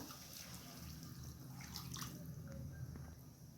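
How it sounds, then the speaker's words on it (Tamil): Water splashes and trickles into a pan of fish curry paste, a soft continuous pour with faint drips, quiet and close. "இப்போ கொஞ்சம் பச்சை தண்ணியை ஊற்றிடலாம்."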